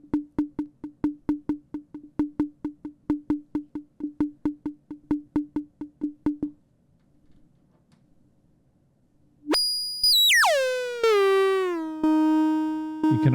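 A Tembra dual all-pass filter module pinged by a pulse wave gives a fast run of evenly spaced ringing pings for about six seconds, then silence, then a loud sustained tone whose stacked harmonics sweep downward and settle.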